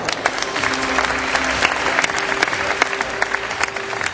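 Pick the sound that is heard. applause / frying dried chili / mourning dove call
applause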